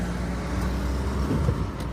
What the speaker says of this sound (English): We're driving this Z back to where we're gonna make the video.